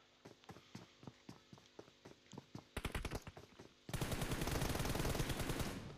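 M4 rifle fire in a video game shootout: evenly spaced single shots at first, then a quicker burst, then a loud continuous automatic volley that holds steady to the end.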